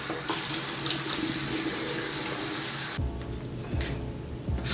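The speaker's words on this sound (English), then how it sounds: "let me wash my hands so I can do this with clean hands" Water runs steadily from a bathroom tap into a sink during handwashing, a continuous broadband hiss that shifts in tone partway through as the hands move under the stream.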